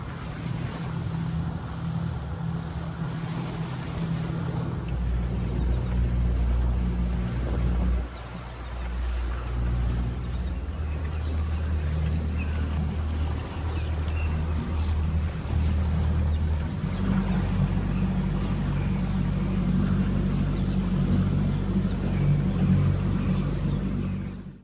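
A fishing boat motors back in after commercial cast net fishing for mullet, its engine a loud, continuous drone with wind buffeting the microphone and water rushing past, and no talk.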